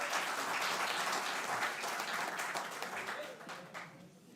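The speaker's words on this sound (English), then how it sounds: "She deserves a louder clap than that." An audience at a gathering with the St Vincent prime minister claps to welcome a woman named Kimberly, dense sustained applause that is loud at first and fades toward the end.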